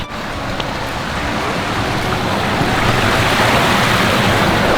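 Backyard koi pond waterfalls pour steadily, a broad, continuous rushing of water that holds even and close throughout, gently swelling slightly toward the end with no voices over it.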